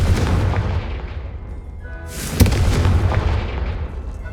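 A Confringo blasting spell explodes in the video game Hogwarts Legacy, a sharp burst over a rumbling backdrop that swells into a bright crack and then fades into a lingering low rumble.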